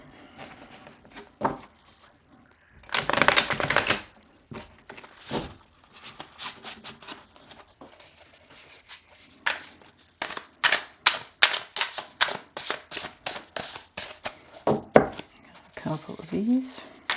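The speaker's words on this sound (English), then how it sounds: "The cards are pre-shuffled. I'll still do a couple of these." Tarot cards being shuffled near the microphone give bursts of quick papery riffles and flicks, soft then louder, with brief pauses between shuffles.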